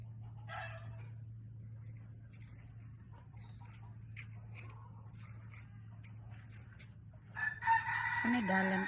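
A rooster crows out in the open, faint and distant under a low steady hum, then a louder, closer call rises near the end amid scattered soft background sounds.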